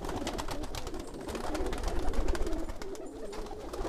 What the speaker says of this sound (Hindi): यहाँ पे भी कबूतर है